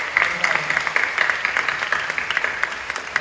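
A church congregation applauds during a Friday night prayer service at a Full Gospel church, a steady wash of many hands clapping at moderate loudness throughout.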